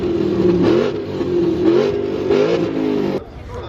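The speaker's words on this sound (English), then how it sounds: "Getting in some revs." A Ford car's engine revs repeatedly at a large outdoor car meet, loud and close with a rising and falling roar, then drops sharply to idle near the end.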